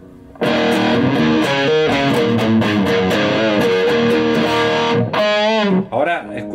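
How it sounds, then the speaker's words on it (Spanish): An electric guitar played through a Boss Metal Zone distortion pedal, heard loud and close as heavily saturated sustained chords and notes that break off and resume near the end. "Ahora estoy en el canal con distorsión"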